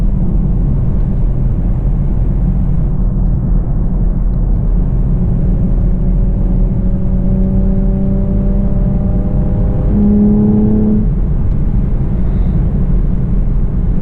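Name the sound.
Camaro V6 1LE engine accelerating in third gear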